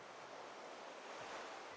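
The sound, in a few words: lapping sea waves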